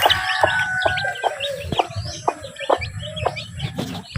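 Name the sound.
hen and chicks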